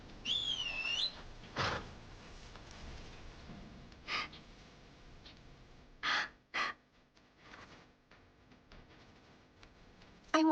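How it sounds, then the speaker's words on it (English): A person whistles a short, warbling, bright tune near the start, followed by breaths, a gasp and scattered brief bursts, with no talking. "You can whistle like a bandit."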